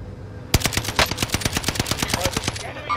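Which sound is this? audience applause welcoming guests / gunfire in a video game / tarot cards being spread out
gunfire in a video game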